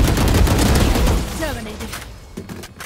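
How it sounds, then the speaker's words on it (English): Killjoy's swarm grenade in Valorant goes off with a loud burst of rapid popping blasts that fades out within about two seconds, followed by a short voice line and a few faint clicks. "Placing swarm grenade."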